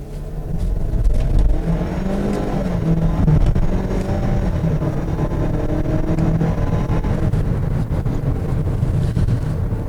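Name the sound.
Ford Bronco Sport accelerating on a dyno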